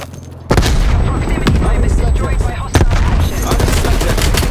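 Gunfire and a grenade blast in Call of Duty Black Ops Cold War Domination match with an XM4 rifle: loud, dense bursts of shooting and booms running almost continuously, with a sharp onset near the start and another heavy hit midway.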